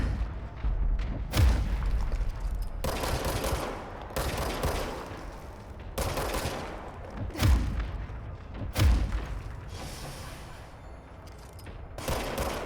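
Gunfire in a practice area of the video game Control: several separate heavy shots and bursts with sharp onsets and booming tails, spaced a second or two apart over a steady background din.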